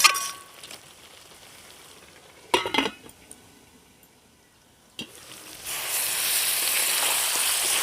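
Mutton and its fat fry in a home kitchen pan: bursts of sizzling and metal stirring clinks, a quiet lull, then a loud, continuous frying hiss that swells and holds.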